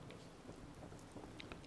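Steady rain falls in the video game Fallout 4, a faint, continuous patter of drops with no voices over it.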